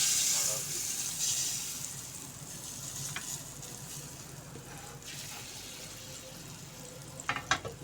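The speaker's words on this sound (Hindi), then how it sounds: "तो अब देखिए इस चटनी के अंदर हम डालेंगे तड़का।" Hot ghee tadka hitting raw mango chutney gives a soft continuous sizzle with faint crackles, closing in a few sharp clinks and stirring knocks, quiet throughout.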